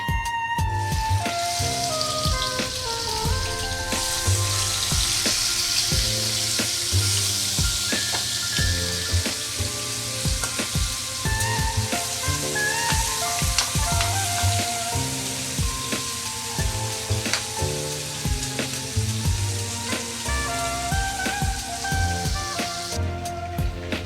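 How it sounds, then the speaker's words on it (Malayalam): Masala-coated prawns sizzle in hot coconut oil in a pan for a prawn roast, a loud, steady crackling hiss that runs throughout over faint background tones. "അതിലേക്ക് നമ്മുടെ മസാലയൊക്കെ തേച്ച് വെച്ചേക്കണ ചെമ്മീൻ ഇട്ട് കൊടുക്കാം"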